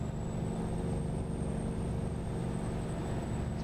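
A turbocharged truck engine in American Truck Simulator drones steadily and loudly throughout, a continuous low rumble with a thin high whistle held above it and no talking.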